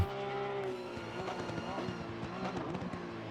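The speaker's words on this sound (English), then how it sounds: "Gabriel deep on the brakes there." A race car in Assetto Corsa Competizione at the Nurburgring with its engine note dropping under hard braking, a steady harmonic drone with downshift blips, moderately loud and up close.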